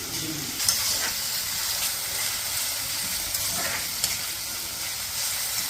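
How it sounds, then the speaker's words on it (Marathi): Onion, tomato and chili sauté in oil with mustard seeds, giving a steady close sizzle and hiss with occasional soft stirring scrapes and small pops, and no voices. "कांदा, टमाटर आणि मिरची छान होऊ द्यायचं"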